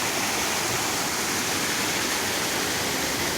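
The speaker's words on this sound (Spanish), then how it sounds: "aquí tenemos otro saltito de agua que baja espectacular, en el mismo arroyo" A small waterfall on the same mountain stream as the Xurbeo cascade, near the Río Negro, roars in a loud, steady, close-up rush of falling water with nothing else heard.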